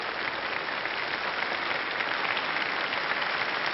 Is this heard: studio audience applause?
yes